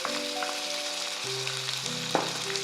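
Ginger-garlic paste hits hot oil in a pan for a Bengali fish chop, giving a steady, close sizzle that carries on throughout, with soft tonal background music underneath.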